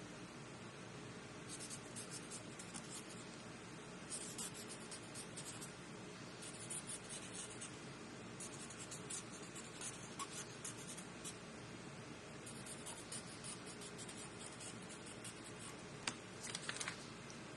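A pen draws squiggles and writes on collage paper, making a faint, continuous scratchy rustle with small taps, close up and without talk.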